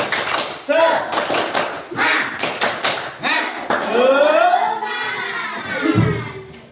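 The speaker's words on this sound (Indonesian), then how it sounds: "Tepuk semangat." A classroom of pupils does a rhythmic spirit clap, sharp bursts of hand claps in patterned groups with children's voices chanting along, then a teacher's voice carries over the room.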